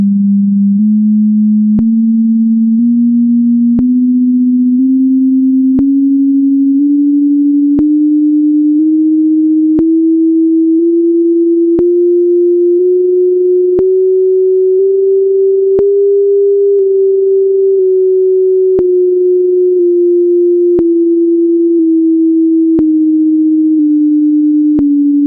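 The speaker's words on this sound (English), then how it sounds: "Here's what that 16-note scale sounds like." A steady sine tone glides upward through a 16-note scale spanning the 16th to 32nd harmonics, then eases back down, each step marked by a faint click, pure and even with nothing else.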